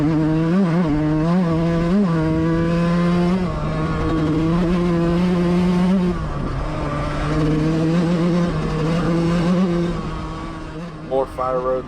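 A 125cc dirt bike races flat out along a fire road at a GNCC cross-country event, its engine buzzing loud and close as it revs up and shifts through the gears, with talk over the top.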